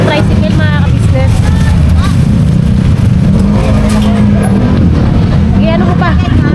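Motorized tricycle engine rumbling steadily under a ride, close and loud, with people talking over it throughout.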